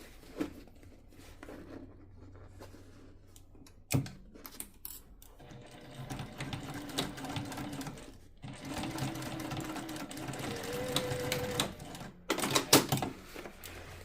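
Sewing machine stitching a nylon strap onto a handmade bucket bag, running in short bursts and then a longer steady run, close up with a few clicks and handling noises in between.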